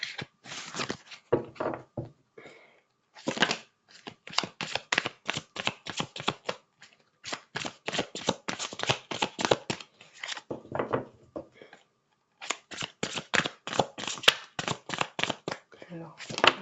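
Oracle cards are shuffled and drawn in bursts of crisp riffling and flicking, rapid rhythmic slaps close up, broken by short pauses, with no talking over them.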